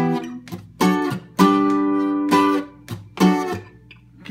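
Guitar strums barre chords high on the neck on the middle strings, a handful of ringing strikes in an uneven rhythm with brief gaps between them, close and clear with no talking.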